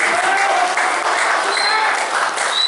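A gathering at a regional party office bursts into loud, close clapping, with brief voices mixed into the steady applause.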